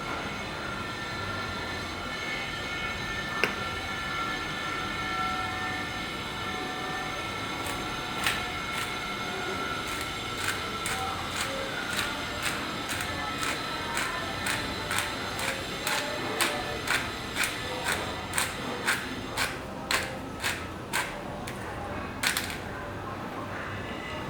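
A pepper mill grinding pepper into a simmering cottage pie filling, a series of sharp rhythmic crackling clicks that speed up and grow denser, close up over a low kitchen background hum.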